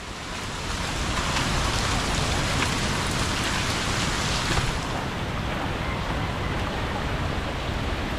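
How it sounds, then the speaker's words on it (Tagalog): Heavy rain falling outdoors, a loud dense steady hiss of drops on surfaces that fills the whole clip without pause and with no talk. "Woo! Ulan!"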